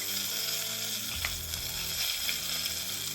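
Wild rabbit pieces pan frying in beef tallow, a steady close sizzle with a few soft pops, continuous and even throughout.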